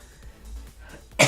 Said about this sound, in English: Excuse the coughs.